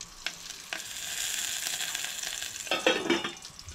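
Tempering sizzles in hot oil for Goan horse gram dal, a steady close frying hiss broken by a few sharp pops and crackles that swell louder toward the end.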